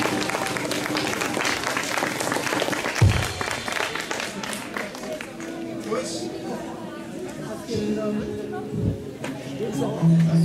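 Concert audience at a Tübingen show cheering and clapping, crowd noise and chatter rising and falling with a voice talking over it.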